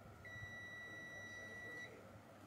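A multimeter's continuity buzzer gives a single steady beep of about a second and a half during a test on a steam iron's live line, faint against low background hum.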